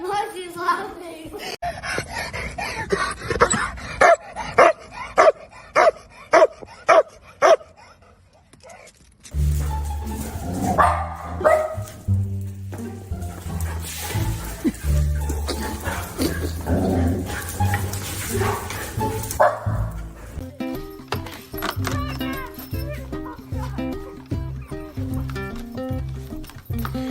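A dog gives a quick run of sharp, evenly spaced yips and barks, then other dog whimpers and yelps come and go under loud music and people talking over a longer stretch.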